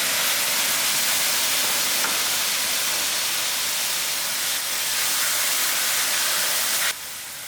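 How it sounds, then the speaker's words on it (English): Tomatoes steaming and cooking in a pan for a Mauritian cari bari, a steady close broadband hiss that runs evenly throughout and drops slightly in level near the end. "And then I'll add in my tomatoes to cook out."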